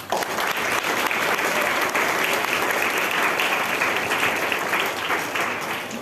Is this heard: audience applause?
yes